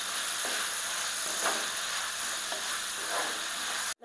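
Onions sizzle steadily in hot oil in a pan for a small sardine curry, with a continuous frying hiss and faint scraping from occasional stirring throughout.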